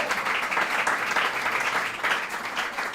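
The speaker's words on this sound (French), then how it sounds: "Faites avec moi un tonnerre d'applaudissements à l'endroit de monsieur José" An audience at a school competition between C Saint Michel and C Saint André claps for a jury member in steady, dense applause that fills the room at an even, loud level throughout, with no voices rising above it.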